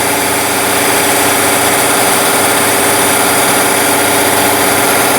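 A 2014 GM truck with the 5.3 engine, prone to running rough, is held at 1850 RPM, giving a loud, steady, dense engine drone with fast underlying pulsing, close up and unbroken, with no talking.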